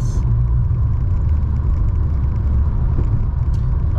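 Car cruising at a steady 50 mph on a US road, a continuous loud low rumble of engine and tires from inside the vehicle, with no voices.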